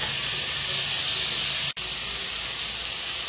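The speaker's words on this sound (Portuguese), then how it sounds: "deixa a cebola fritar bem, fritadinha" Onion and garlic fry in a pan with a loud, even, hiss-like sizzle throughout, broken by one sharp momentary dropout near the middle.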